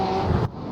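Porsche Carrera Cup race car passing during a racing round, a short loud engine roar that cuts off abruptly as it goes by.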